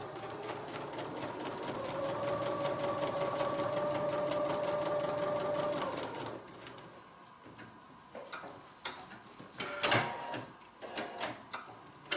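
A sewing machine stitches a paper-pieced log cabin heart quilt block with a fast, steady mechanical ticking run. After about six seconds it stops, leaving scattered handling clicks and rustles.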